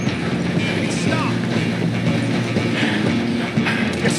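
Moving train in Red Dead Redemption 2, a loud continuous rumble of rolling wagons with mechanical rattling and clatter, under some speech-like sound.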